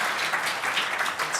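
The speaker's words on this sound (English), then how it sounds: "If everybody could just give them a round of applause" Conference audience at a legal technology event in Leeds applauding a panel, a dense wash of clapping that holds steady through a short burst.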